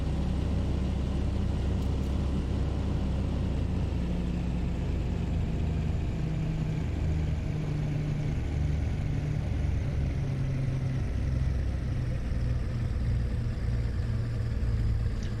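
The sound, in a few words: Cessna 337 engine idling at 1000 RPM in Microsoft Flight Simulator (video game)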